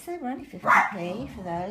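A dog barks once, sharp and close, in the middle of a woman's speech at home, with her voice continuing before and after the bark.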